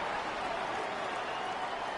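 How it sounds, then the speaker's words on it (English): A stadium crowd in Madden 26 American football, Falcons versus 49ers, reacting to a referee's call: a steady, loud wash of crowd noise with no distinct peaks. "The crowd does not agree with that call. Boos ring out."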